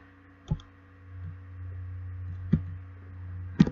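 Three sharp, isolated computer mouse clicks spaced a second or two apart, close and clear over a low steady hum.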